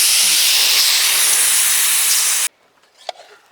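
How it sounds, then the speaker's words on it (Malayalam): A pressure cooker of beef curry lets off steam after six whistles, a loud, steady close hiss that cuts off abruptly and leaves a few faint clinks and rustles afterward. "നമ്മുടെ കുക്കറിൽ 6 വിസിൽ വന്നിട്ടുണ്ട്. ഇനി നമുക്ക് ഇറക്കി വെച്ച് ഇതിൻ്റെ കാറ്റൊക്കെ ഒന്ന് പൊക്കോട്ടിട്ടോ."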